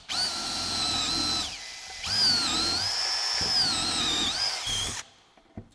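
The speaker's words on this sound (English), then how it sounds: "I'm just gonna go ahead and bore out a bunch of holes in here." A power drill bores holes into timber for a timber frame joint, with three long whining runs separated by brief pauses before the motor stops and a faint knock follows.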